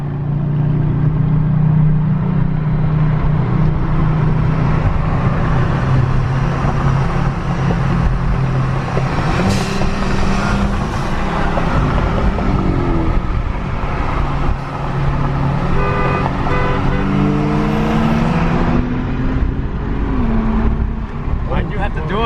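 A BMW 335i with an N54 engine, an upgraded CSF intercooler and a stage 1+ tune accelerates hard while racing, its engine drone rising and falling through the gears, loud and continuous from inside the car, with voices talking.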